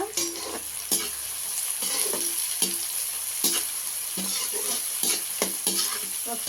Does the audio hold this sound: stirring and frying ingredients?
yes